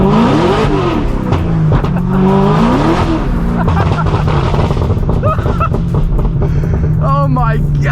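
A 900-horsepower, E85-fuelled Chevrolet Corvette ZR1 with a manual clutch accelerates, its loud engine roaring steadily with rising and falling pitch as it pulls through the revs, heard up close from the cabin.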